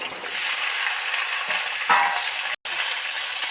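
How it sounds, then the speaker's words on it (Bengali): Okra pieces fry in hot oil in a pan, giving a continuous close sizzle with a brief scrape midway and a momentary cutout, no voices over it. "তেল তো গরম হয়ে গেছে এবার এই ঢেঁড়স কটা তেলের মধ্যে উঠিয়ে দেব"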